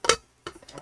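A drink can popped open: a sharp metallic crack followed by a quick fizzy hiss and small clicks, brief and close, with no talking.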